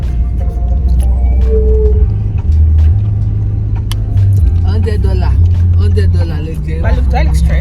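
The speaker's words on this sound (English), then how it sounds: "There's so much traffic right now." Heavy road traffic in Ikoyi, Lagos, with a steady low engine rumble from cars close by, occasional horns and passing vehicles, as people talk over the noise throughout.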